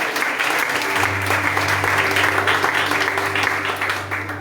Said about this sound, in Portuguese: Aplaude e glorifica Ele aí.